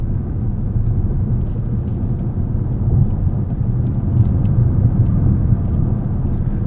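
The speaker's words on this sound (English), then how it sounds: "Very smooth start here, as it is with all of Toyota's hybrid products." A 2025 Toyota Crown Signia all-wheel-drive hybrid pulls away smoothly from a standstill, heard from inside as a steady low rumble of road and drivetrain noise with no distinct engine surges.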